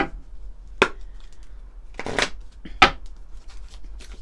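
Oracle cards for a lunar reading are shuffled in a few quick, crisp riffling bursts, close and clear. Quiet pauses separate the bursts, and no voice is heard.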